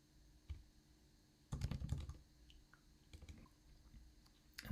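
Keys on a computer keyboard clatter as a Linux terminal command is typed: a dense burst of close clicks, then scattered lighter keystrokes and a final loud tap, all fairly quiet with no talk.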